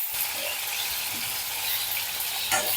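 Dried seer fish (nei meen karuvadu) frying in oil over low heat, a steady close sizzle with soft stirring touches and a slightly louder burst at the end.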